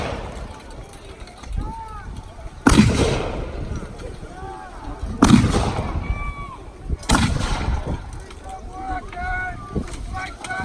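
Artillery guns fire at a UK festival, three loud booming blasts spaced a few seconds apart, each with a rolling tail, over crowd noise and people talking nearby.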